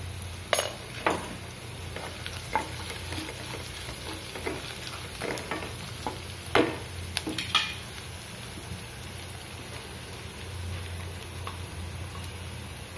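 Potatoes and onions fry in a pan for aloo palak sabzi, a soft steady sizzle broken by occasional spoon scrapes and clinks against the pan, close and quiet with no talk.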